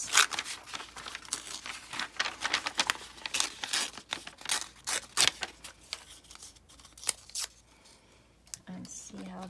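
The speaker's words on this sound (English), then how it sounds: "let's tear this" Paper torn by hand for a collage journal page, a run of rough ripping and crinkling bursts at close range, broken by short pauses and quieter stretches near the end.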